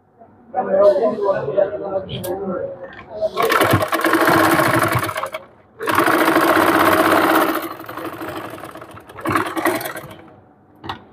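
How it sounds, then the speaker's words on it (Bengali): Sewing machine running double stitches along a blouse sleeve, loud mechanical whirring in two long bursts and a shorter third, with a person speaking at the start. "এখানে আমরা ডাবল সেলাই দিয়ে নেব"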